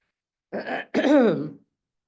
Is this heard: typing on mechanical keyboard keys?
no